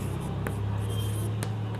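Pen or marker strokes while writing a momentum equation on a board, steady and scratchy under a constant low hum, with a couple of sharper strokes and no speech.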